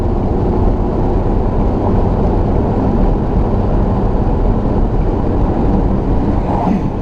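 A Subaru Impreza S203 replica with a carburetor setup makes a sustained wide-open-throttle pull, loud dense engine roar holding steady throughout with little variation and no break.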